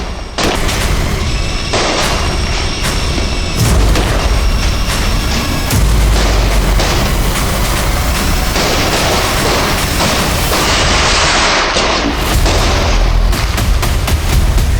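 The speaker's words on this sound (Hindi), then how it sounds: "मैं जानता था कि दिवाली के शाम में पटाखों के बीच" Loud Diwali firecrackers burst in rapid, overlapping bangs and booms on Diwali evening, a continuous dense barrage echoing with crackling pops throughout.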